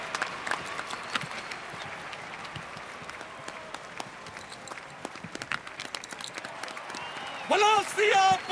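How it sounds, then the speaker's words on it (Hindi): An audience claps for a Ramlila drama company, a sustained patter of many hands with crowd noise beneath, ending in a loud surge of voices shouting together. "तो जोरदार तालियों के साथ स्वागत कीजिए कंवर सिंह जी का और उनके ड्रामा"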